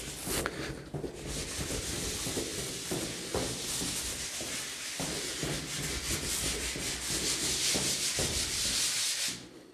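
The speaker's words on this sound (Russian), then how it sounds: "Вы шлифовываете стенки, да?" Walls in an apartment under renovation are sanded, giving a steady scratchy rubbing with rhythmic strokes that runs continuously at moderate loudness, with no talk.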